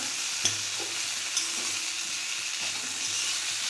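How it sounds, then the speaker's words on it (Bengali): Pumpkin frying with turmeric, salt and green chilli in a pan for a shrimp dish, a steady close sizzle with a couple of sharp clinks of a spoon stirring. "আর কুমড়ো দিয়ে আমি এরকম ভেজে নিতেই, দেখো এরকম ভাজা হয়েছে"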